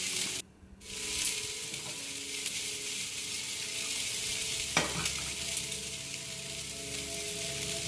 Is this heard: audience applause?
no